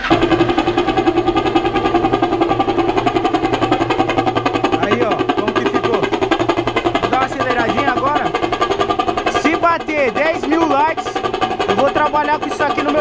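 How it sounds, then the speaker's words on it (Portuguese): A motorcycle with a vuvuzela fitted to its exhaust starts and settles into a loud, steady engine drone with a buzzy horn-like tone, with pulsing revs toward the end. "E vamos ligar a moto aí pra ver como que fica"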